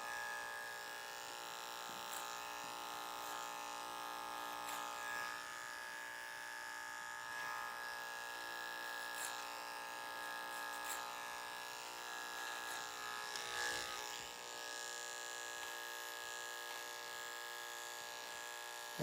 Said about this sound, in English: Then we switch to our underhand grip with the clipper and go through and just blend that in